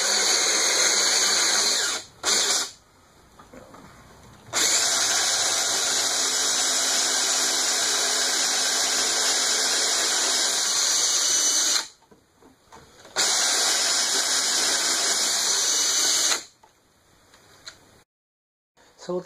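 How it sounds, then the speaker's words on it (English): A power drill whines loudly as a 7/8 inch Forstner bit bores a flat bottom hole in wood for a carriage bolt head, running in long steady bursts with brief pauses between. "So now I've got a 7/8" Forstner bit to drill the flat bottom hole for the head of the carriage bolt."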